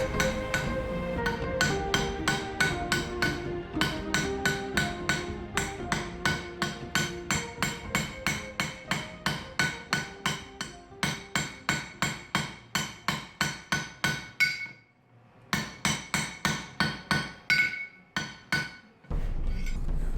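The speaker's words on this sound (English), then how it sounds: "It's nice to sit there with the coal forge going, the charcoal forge going, hammering away." Rhythmic hammer blows ring out on metal at a charcoal forge, loud and close, in steady runs of strikes broken by short pauses.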